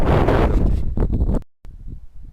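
Loud wind buffets the microphone in gusty roaring bursts, cutting out briefly before softer rumbling returns.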